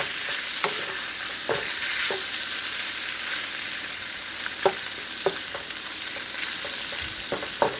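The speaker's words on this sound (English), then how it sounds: "I'm going to let that fry up a little bit" Beef and peppers fry in toasted sesame oil, giving a loud, even sizzle close up with occasional sharp clicks of a stirring utensil.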